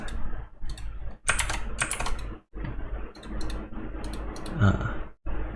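Rapid clicking keystrokes on a computer keyboard while writing Python Kivy code, coming in close, uneven bursts separated by brief pauses.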